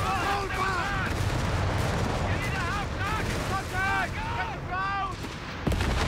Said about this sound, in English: Enemy MG! This is a killing zone!